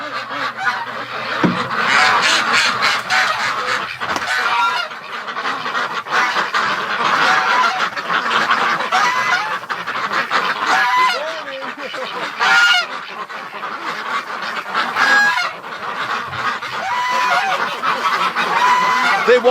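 A loud, clamorous chorus of geese and ducks honking and quacking over and over, overlapping calls nearby with no pause.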